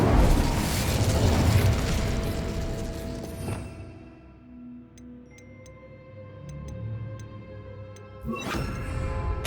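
Fiery burst of the Incendio spell in Hogwarts Legacy, a loud roaring whoosh that fades to quiet ticking before another sharp burst at the end.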